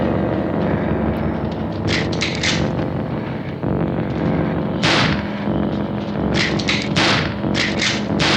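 Gunshots from the 1968 horror film Night of the Living Dead, a dense, loud stretch of repeated sharp reports and booming thuds over a continuous rumbling soundtrack, with bursts clustering near the start and again toward the end.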